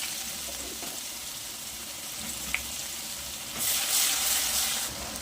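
Curry leaves and crushed garlic hitting hot oil that already holds spluttered cumin and asafoetida, giving a steady close sizzle that swells louder near the end, with no talking.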